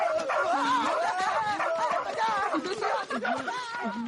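A cartoon dog barks and whimpers in a Hindi-dubbed Doraemon movie, the yips and bow-wows dense and continuous across the moment, mixed with excited voices and background score.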